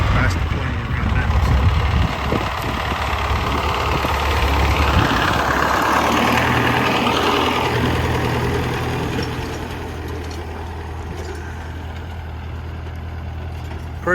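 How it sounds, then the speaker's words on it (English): A Farmall 504 diesel tractor runs steadily while discing corn ground, its low engine drone loud and continuous throughout, settling slightly quieter toward the end. No one talks. "Pretty stout old tractor."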